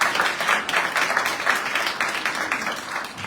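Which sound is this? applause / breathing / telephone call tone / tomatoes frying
applause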